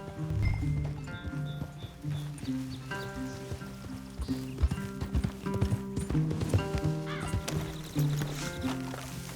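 Rhythmic hoof clip-clops of horses moving over ground in Red Dead Redemption 2, mixed with a busy, layered background and occasional soft thuds, fairly close and steady throughout.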